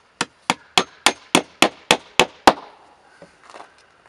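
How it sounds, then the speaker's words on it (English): Nine sharp, evenly spaced hammer blows drive nails into wooden clapboard siding against sheathing, loud and close, about a third of a second apart, followed by a couple of faint knocks. "I'm actually going to put two nails into the spot"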